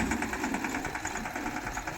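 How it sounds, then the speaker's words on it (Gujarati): A tractor engine idles nearby on a farm with a steady, rhythmic chugging throb and no voices over it. "મીતનો ભાઈ ટ્રેક્ટર ચાલુ કરી દીધી છે"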